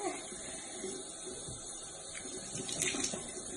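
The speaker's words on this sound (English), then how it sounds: "And then I wash my face." A bathroom tap runs steadily while someone washes their face, a soft, continuous hiss of water with faint splashing that grows slightly near the end, quiet and close.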